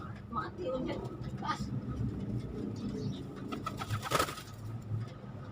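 Racing pigeons coo softly in the background, faint and intermittent, with a brief flutter of wings, under ongoing conversation nearby.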